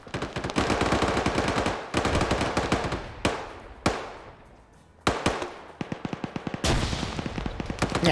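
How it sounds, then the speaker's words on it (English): A BTR armored vehicle's machine gun fires in a tactical video game, heavy bursts of rapid automatic gunfire with sharp single shots, loud and near, broken by brief pauses and echoing tails. "The BTR is firing from all the way up here."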